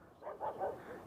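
A pack of about ten dogs at a guarded, off-limits site bark and yip in a few short bursts, faint and somewhat distant, over quiet background noise.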